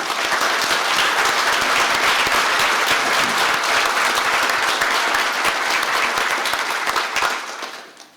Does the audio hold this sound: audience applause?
yes